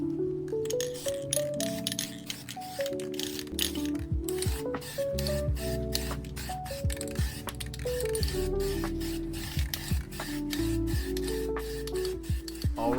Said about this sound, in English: right now I am spraying some adhesion promoter onto the bumper